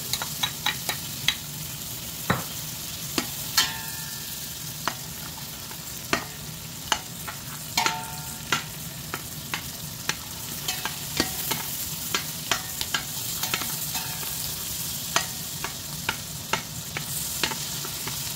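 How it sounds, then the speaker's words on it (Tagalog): Chopped onion fries in melted butter in a pan for chicken soup, giving a steady low sizzle with frequent sharp clicks and taps of a utensil stirring close by, and no speech. "ilalagay ko na ang sibuyas"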